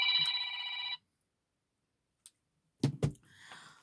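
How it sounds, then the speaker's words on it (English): A phone rings nearby with a short electronic ring lasting about a second, then stops, followed by a few faint knocks and brief handling noises. "Oh man, my phone's ringing."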